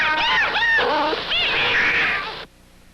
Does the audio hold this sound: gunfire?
no